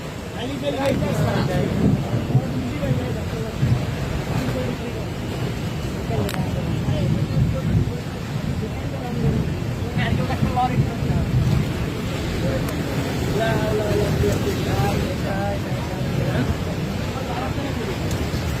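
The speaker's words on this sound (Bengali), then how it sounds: "কাল বৈশাখী দশ শুরু হয়েছে" Strong Kalbaishakhi nor'wester storm wind roars in steady buffeting gusts, heavy and continuous throughout, with wind rumble on the microphone and voices talking underneath.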